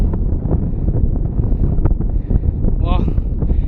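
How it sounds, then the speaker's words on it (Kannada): Strong wind buffets the microphone on a hilltop in a steady, loud rumble, with people talking over it. "ಗಾಳಿ ಮಾತ್ರ ಸಕ್ಕತ್ತಾಗೈತೆ."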